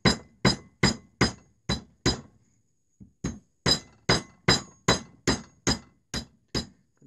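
A hammer taps around a coconut to crack it open, with a steady series of sharp, clinking knocks, close and loud, a short pause, then a second fast run of similar blows.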